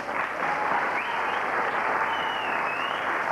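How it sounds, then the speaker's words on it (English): Studio audience on a 1982 television chat show applauds, a dense, steady wash of clapping from many hands that holds evenly for several seconds. "Round of applause."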